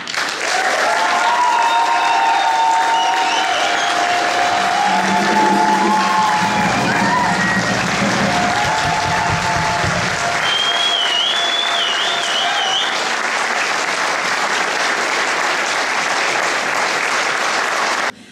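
Loud, sustained audience applause fills a CD launch concert honoring an orchestra and its conductor, a steady wash of clapping with some cheers and whoops running throughout.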